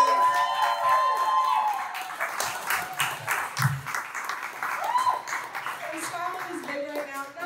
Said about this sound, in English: Give them a big round of applause for Bridget